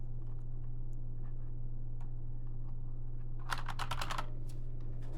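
Keys are typed on a BOYI IK87 75% mechanical gaming keyboard with foam dampening inside, giving scattered soft clicks followed by a brief quick burst of louder clacks over a steady background hum.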